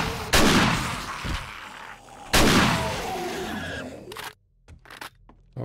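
Two loud, close gunshot blasts from a firearm in the zombie survival game 7 Days to Die, each with a long booming decay, followed by a few faint clicks and thuds.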